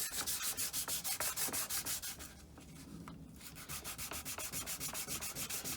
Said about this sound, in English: Let's give that a bit of a light rub down.